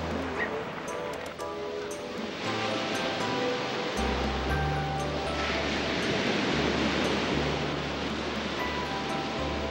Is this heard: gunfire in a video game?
no